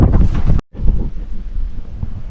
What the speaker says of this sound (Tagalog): Grabing hangin guys